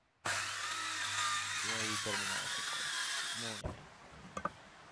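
A power saw finishes a cut in wood while building a simple configurable coat rack, a loud, steady whine lasting a few seconds before abruptly stopping, followed by a couple of faint knocks, with brief speech underneath.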